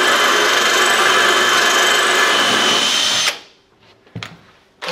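Power drill boring a hole in tile with a PG750X bit, a loud steady grinding whine with slight oscillation for about three seconds before stopping abruptly, followed by a few faint knocks.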